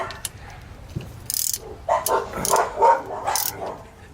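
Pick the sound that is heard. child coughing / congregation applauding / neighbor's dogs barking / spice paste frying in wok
neighbor's dogs barking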